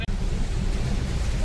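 Very heavy rain pouring down near Tiger Hill, a dense, constant broadband hiss filling everything, close and loud with no breaks after a brief dip at the start.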